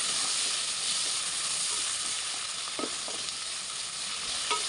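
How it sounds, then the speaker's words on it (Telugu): Onions and green chillies fry in oil in a pan, making a loud, steady hiss that fills the whole stretch. A few faint clicks of stirring sound beneath it, and no one speaks. "ఆనియన్స్ బ్రౌన్ కలర్ వచ్చే వరకు ఫ్రై చేసుకోవాలి"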